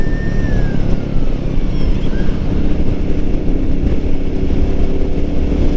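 A Royal Enfield Meteor 350 motorcycle being ridden: a continuous, fairly loud single-cylinder engine drone mixed with wind rush, steady throughout with no one speaking.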